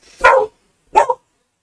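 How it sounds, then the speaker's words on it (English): A pet dog barks at a mail carrier arriving at the house, two loud, close barks separated by a short pause, with silence afterward. "there's a guy delivering the mail and my dog's just going off"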